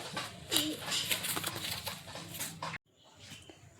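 A pet pigeon at home gives faint, low cooing, with some soft background noise and a hint of a voice, before the sound drops away almost to silence.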